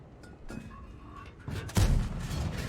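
A World of Tanks AMX 30B cannon fires APCR rounds, a single heavy boom landing partway through after quieter battle ambience and a couple of lighter shots, loud and close with a rumbling tail.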